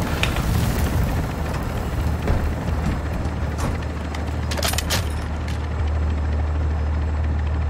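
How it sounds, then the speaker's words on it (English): An exfil helicopter in Call of Duty DMZ thuds loudly and steadily nearby, its rotor whirring constantly under a wash of wind and sharp crackles, with no speech. "just exfil on the final helicopter"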